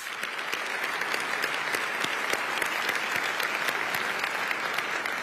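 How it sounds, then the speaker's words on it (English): Sustained applause from a crowd at a Martin Luther King Jr. holiday breakfast fundraiser, a thick, even wash of many hands clapping steadily from start to finish. "Give yourselves a round of applause."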